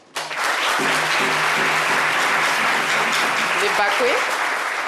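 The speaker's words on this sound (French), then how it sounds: "je pense qu'on peut applaudir." Sustained applause from a crowd, steady and loud, with a few voices and whistles mixed in near the end.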